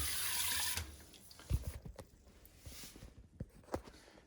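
Water sprays from a bidet attachment on a toilet, a steady hissing rush in the first second that stops abruptly, followed by quieter drips, splashes and handling knocks.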